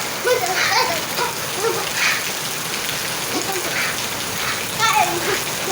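Steady rain pours down in a dense, continuous hiss with scattered heavier drops spattering on a surface, close and fairly loud throughout.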